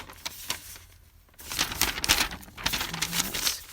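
Thin typing paper crinkles and rustles close by, quiet at first and then louder with crisp, irregular handling sounds.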